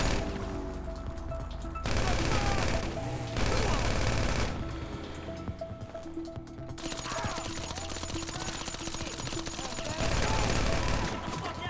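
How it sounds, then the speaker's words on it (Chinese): Bursts of assault rifle fire in GTA Online, rapid loud volleys that start and stop over a shootout, with a person talking over the gunfire. "我们来体验突击步枪的威猛。"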